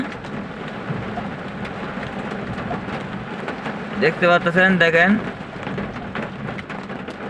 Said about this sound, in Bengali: ঝড় বৃষ্টি শিলা বৃষ্টি হবিগঞ্জে হইতেছে